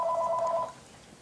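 A telephone rings in a quilting studio: a bright, warbling two-tone electronic ring that repeats quickly for under a second, then cuts off, leaving faint room hiss.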